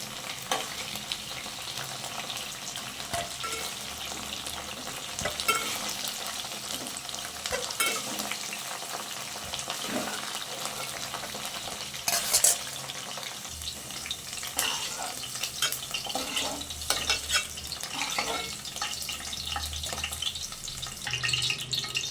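Okra fries in a pan with a loud, continuous sizzle and frequent stirring scrapes and clinks, heard close up with no talking.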